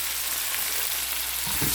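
Green onions and tomatoes sautéing together in a pan, a soft, steady frying hiss with a brief clatter near the end, heard alone.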